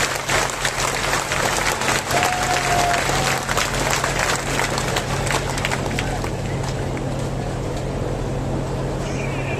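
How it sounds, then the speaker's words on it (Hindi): Crowd at an outdoor political gathering in Sherghar applauding to welcome Gehlot, a dense, steady wash of clapping that stays loud throughout, with a low mechanical hum underneath. "माननीय गहलोत साहब का आप सभी तालियां बजाकर स्वागत करें।"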